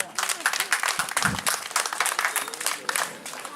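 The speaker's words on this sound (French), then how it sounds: "Applaudissez mesdames et messieurs," Audience applause at a formal ceremony as the president of FEJESCA is introduced, with steady clapping from a crowd running throughout alongside someone speaking over it.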